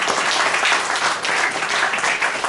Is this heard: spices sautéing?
no